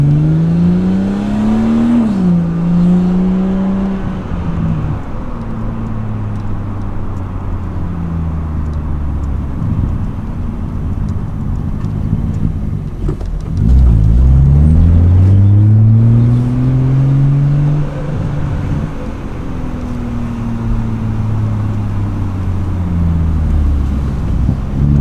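A BMW 440i with a B58 engine and resonator delete, in sport mode, revs repeatedly from inside the cabin, its loud droning note climbing and falling in long sweeps, with one deeper, stronger pull in the middle.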